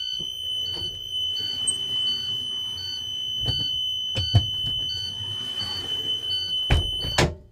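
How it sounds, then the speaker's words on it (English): A school bus emergency exit alarm sounds a shrill continuous tone with rapid repeating chirps throughout, loud and close, while metallic clunks and thumps of the exit handle and door cut in. "You're going to lift up the handle, making sure that the audible alarm sounds."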